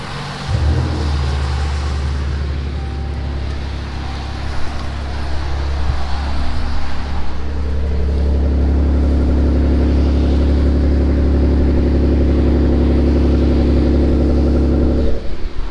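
A car engine cranks and fires up with a loud, deep exhaust rumble, idling heavily before revving higher partway through.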